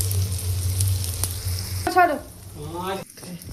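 Hot oil crackling in a frying pan while shrimp bharta is being made: a close, steady sizzle for the first two seconds, then a brief voice speaks over softer frying.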